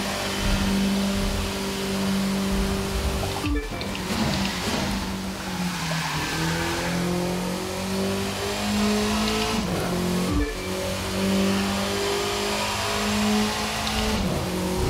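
A Golf GTI engine in the racing game The Crew 2 revs hard at around 266 km/h, a loud, sustained roar that drops briefly at two gear shifts and then climbs again.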